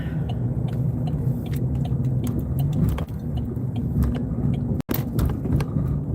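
A car rolls steadily along a road with a low continuous rumble of engine and tires, heard from inside the cabin, loud and close, with small clicks and rattles over the drone and no talking.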